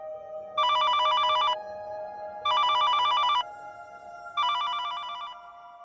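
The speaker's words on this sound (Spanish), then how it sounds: "el teléfono sigue y sigue sonando" A telephone bell rings in three long electronic bursts separated by short pauses, clear and fairly loud against a quiet low hum.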